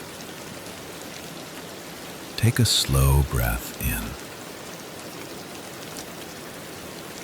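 Steady rainfall on a quiet night hisses continuously and evenly throughout, with a calm voice speaking briefly in the middle over the rain.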